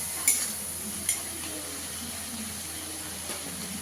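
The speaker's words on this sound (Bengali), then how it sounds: "মশলাটা ভালো করে একটু কষিয়ে নেব।" Spice paste with cumin powder sautéing in a pan for a lote fish malai curry, a soft continuous sizzle with a couple of sharp utensil clicks early on, no talking.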